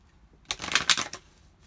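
Tarot cards are shuffled once, close by, in a single quick papery riffle lasting under a second between quiet pauses.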